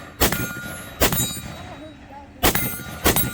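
Bullets striking steel targets at an outdoor gun range give four loud, sharp metallic pings with ringing tails, spaced unevenly: two close together, a pause, then two more.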